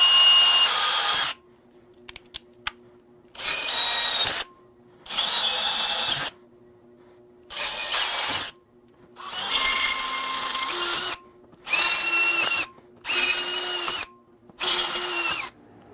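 Power drill boring through a rear rack shelf on a Can-Am Spyder to mount a Givi B47 Blade top case: repeated whirring bursts of a second or two each, separated by short pauses, close and alone.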